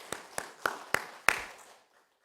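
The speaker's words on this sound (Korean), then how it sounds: "우리 선생님들을 위해서 함께 이 시간 박수로 격려해 주시기 바랍니다" Church congregation in Chuncheon clapping to encourage their teachers during a Sunday service: five separate, evenly spaced claps at moderate distance, each a little stronger, then a quick fade to near silence.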